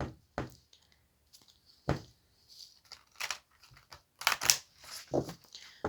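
Tarot cards being shuffled by hand: intermittent crisp riffles, slaps and papery rustles, close and fairly quiet, with pauses between bursts.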